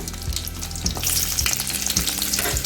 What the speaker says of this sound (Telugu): ఆయిల్ వేడైన తర్వాత ఇందులో అర స్పూన్ జీలకర్ర, 3 ఎండుమిర్చి, కొద్దిగా అల్లం